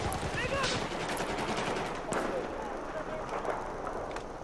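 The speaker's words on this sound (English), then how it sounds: "we're launching a grenade in that store" Battlefield 4 multiplayer on Siege of Shanghai: a grenade launched into a store, heard as a loud explosive burst amid continuous rattling gunfire and battle noise, with a voice talking over the chaos.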